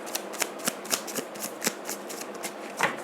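Tarot cards being shuffled and drawn, close and crisp, with a series of quick sharp snaps and flicks repeating at an irregular pace, each brief and bright.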